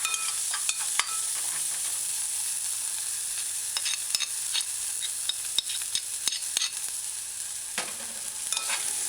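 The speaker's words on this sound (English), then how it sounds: "I like my onions sauteed" Onions sauté in a pan, a steady frying hiss with occasional sharp clicks and scrapes of stirring, close and continuous, with no talking.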